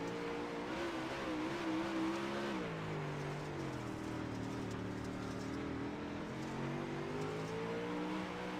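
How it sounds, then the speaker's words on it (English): A race car engine drones steadily through a heat race on championship night, its pitch rising and dipping as the driver eases on and off the throttle rather than running wide open, loud and close throughout. "D-lit working the throttle a little bit there."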